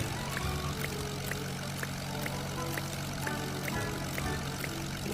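Propeller airplane engine in a Roblox game, a continuous droning hum with a rhythmic pulsing beat, steady and fairly loud with no talking.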